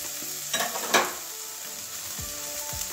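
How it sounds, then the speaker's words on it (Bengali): Bitter gourd with turmeric fries in a pan with a constant close sizzle, with two quick stirring scrapes early on and faint clinks later. "আর একটুখানি ভেজে নেব"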